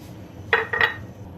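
Spoon clinking twice against a pot while sugar goes into tamarind chutney, two short close metallic taps in quick succession over faint room hum.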